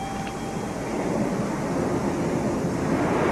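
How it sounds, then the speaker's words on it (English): Ocean waves crash onto a sandy beach in a steady, loud, broad roar of surf with wind, continuous and without voices. "See the waves as they're thrashing and smashing."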